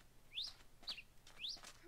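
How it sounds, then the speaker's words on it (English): Three short, high chirps of a bird in the video game CrazyCraft, a Minecraft modpack, come in a quick, faint, evenly spaced sequence. "Oh, it's a bird."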